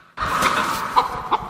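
Chickens on a farm cluck close by in a short burst, a few sharp clucks standing out over a busy background of fowl chatter.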